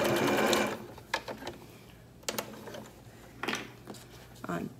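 A domestic sewing machine back-stitches a fabric chicken saddle, running in a loud burst up front and then in several short stop-start runs as it tacks back and forth, with quiet stretches between.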